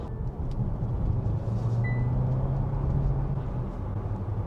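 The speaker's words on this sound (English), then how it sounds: "You could hear the turbo then." A steady engine hum drones inside a Kia Sportage Hybrid GT-Line cabin, with a faint rising turbo whine briefly emerging midway above the low rumble.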